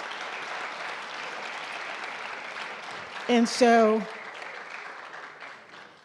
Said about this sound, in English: Let's give Dr. Monroe from BMCC a round of applause.